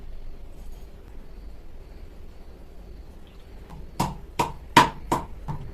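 Neem leaves crushed with a glass, about five sharp pounding knocks in quick succession near the end after a quiet lead-in.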